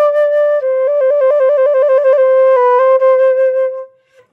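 Solo wind instrument playing a short practice phrase with quick grace notes and a rapid trill between two pitches, ending on a held note that fades out, clean and close.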